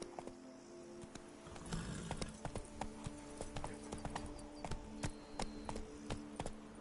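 Roach the horse galloping in The Witcher 3: Blood and Wine, a fast continuous clatter of hoofbeats on the ground, steady and fairly quiet, with no talking.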